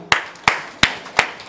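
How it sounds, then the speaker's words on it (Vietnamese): Four separate, sharp hand claps fall at an even pace, close and distinct against a quiet background, sounding like one person clapping rather than a full audience. "một tràng pháo tay"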